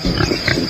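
A pig gives a short, close burst of rough, guttural grunts, loud and alone, lasting well under a second.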